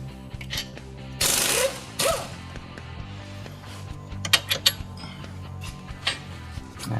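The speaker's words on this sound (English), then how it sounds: "Now we need to get the strut mount bolts off of it." Strut mount bolts being removed on a Hyundai Tucson during a strut replacement, giving a broadband whir of a power tool near the start, then scattered metallic clicks, creaks and ratcheting taps close by, with no talking.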